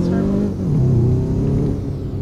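Turbocharged car engine in the Roblox game Southwest Florida revving steadily, a loud close drone with rising pitch, continuous throughout the short stretch.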